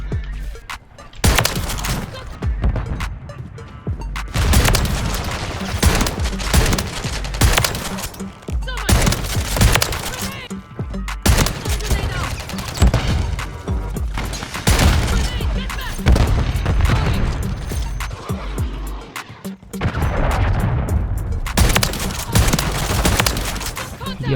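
The Reclaimer 18 shotgun fires in the video game Call of Duty Warzone III, in repeated loud, close blasts and bursts of in-game gunfire that run almost continuously, with brief pauses and a player talking at times.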